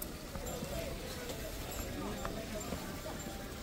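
Horses and mules clip-clop on the pilgrim trail at Ghangriya on the Hemkund Sahib route: a quiet, irregular patter of hoofbeats close by over a steady outdoor hum, with faint voices in the background.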